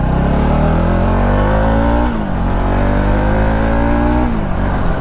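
A modified motorcycle pulls away on the road, its engine revving loud and close through two rising gear pulls with a short dip between them.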